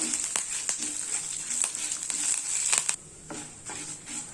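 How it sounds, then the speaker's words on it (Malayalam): Spices and Kashmiri chili sauté in a pan for sambar, hissing and crackling steadily with repeated scraping stir strokes, then the sizzle drops noticeably quieter partway through, with no one talking. "ഇതെല്ലാം കൂടിയിട്ട് നന്നായിട്ടൊന്ന് വഴറ്റി കൊടുക്കണം"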